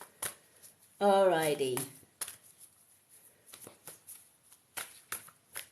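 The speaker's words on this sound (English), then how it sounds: "shuffle the moon cards" Soft, intermittent riffling and flicking of oracle cards during a card reading, a series of light papery bursts, with a brief spoken word near the start.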